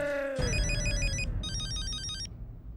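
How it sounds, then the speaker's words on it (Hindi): A phone rings during an outgoing call in a Hindi TV comedy scene: two bursts of electronic trilling ringback tone, each about a second long with a short gap between, clear and close over faint room noise. "पटेल, नानीकर को फोन लगाओ।"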